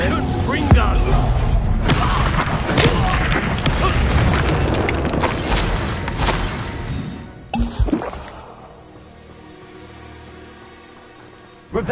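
Fiery spell blasts from the Confringo curse in Hogwarts Legacy gameplay: a dense run of loud, crackling explosions and thuds for about seven seconds, then a sudden drop to quieter ambience with a few isolated impacts.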